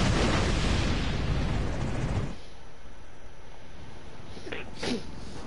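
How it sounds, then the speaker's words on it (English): Explosion in the video game Warlords of New York, a loud, broad blast that fills the first two seconds and then drops into quieter rumble, followed by a couple of short sharp pops. "Explosions? What the hell?"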